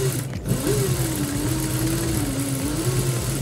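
A sewing machine runs stitching the edge seam of a ladies' sleeve with a lace border, giving a steady, close motor whir with an even hum and no pauses.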